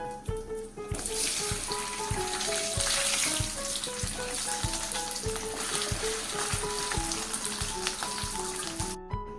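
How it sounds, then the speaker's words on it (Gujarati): Potato pieces frying in oil in a kadai, a continuous loud sizzle and crackle holding steady throughout, with soft background music and no talking. "બાકીના ટુકડા પણ આપણે તળી લઈએ."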